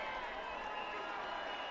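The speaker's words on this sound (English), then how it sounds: "Crowd getting all fired up as well in his last couple of minutes." Stadium crowd at a USL soccer match between Oakland Roots SC and Indy Eleven, a broad sustained roar of cheering and clapping heard at a distance in the closing minutes, with a voice talking over it.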